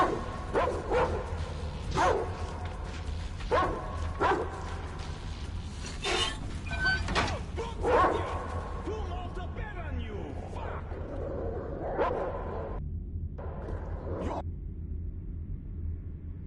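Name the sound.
dog barking in video game Metro Exodus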